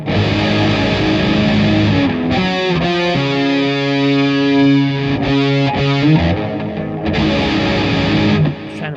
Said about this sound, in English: the sound of a suspended 4.